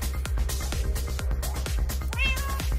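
Minecraft cat meows over a dense game soundtrack with thumping beats, one clear meow standing out near the end; no talk is evident.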